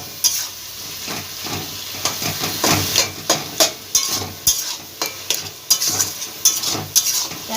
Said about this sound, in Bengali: আদা রসুন আর কাঁচা লঙ্কা যতক্ষণ আর টমেটো একটা কাঁচা গন্ধ থাকে সেই গন্ধটা যতক্ষণ না যাবে আদা রসুনের আর টমেটোর ততক্ষণ এটা ভালোভাবে তেলে ভেজে নিতে হবে